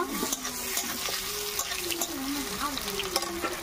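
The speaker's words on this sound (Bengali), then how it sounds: "সুন্দর করে আলুটা দিয়ে দেব। দিয়ে একটু নাড়াচাড়া করে নেব।" Potatoes stirred in hot oil in a pan for a tilapia fish curry, giving a steady close sizzle with light scraping stirs, a faint tonal whine underneath, and no one speaking.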